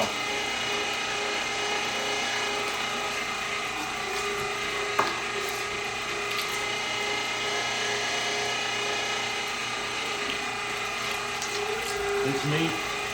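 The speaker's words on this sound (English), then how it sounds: "That is a crazy grinder." An electric meat grinder forces frozen meat through its auger for cheesesteak sausage, giving a steady, loud mechanical whir with grinding and rattling that runs continuously, without any speech.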